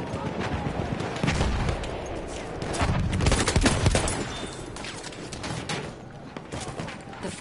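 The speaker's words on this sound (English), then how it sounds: "Machine gun, look like." Machine gun fire rattles in bursts amid a noisy battlefield, with sharp repeated shots and booming blasts in the distance, set in a Battlefield 1 war scene.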